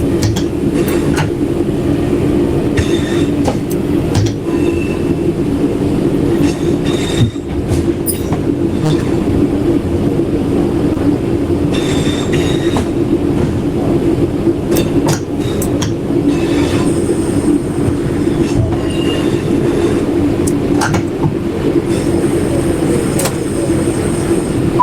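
A train in the Train Sim World 4 video game runs continuously, with loud steady rolling rumble, wheel squeal and scattered clicks and clacks from the track throughout.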